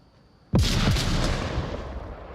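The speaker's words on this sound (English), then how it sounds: "Grenade gets dropped." A grenade explodes in the VR shooter Onward during a competitive match: a sudden loud blast after a quiet half second, followed by a long rumbling, crackling decay.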